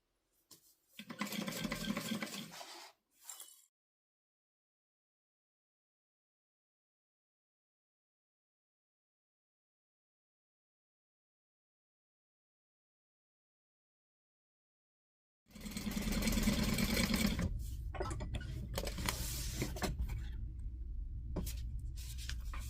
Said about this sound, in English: I'm just going to go around the guitar, sewing it together.